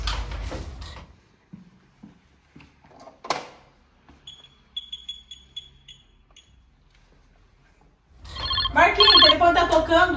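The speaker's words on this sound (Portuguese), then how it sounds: "o telefone tá tocando" A telephone rings in a home with a repeated electronic trill pattern, several short bursts in quiet between clatter and brief sounds, with talk before and after.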